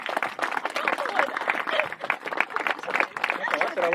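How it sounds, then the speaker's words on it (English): Wedding guests at a ceremony at Wandin Estate in the Hunter Valley clap continuously and fairly close, with chatter and voices mixed into the applause throughout. "Let's give him a round of applause, guys."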